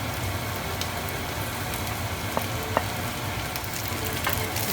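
Eggplant, tofu and black beans frying in a pan, giving a steady dense sizzle with a few faint clicks of stirring.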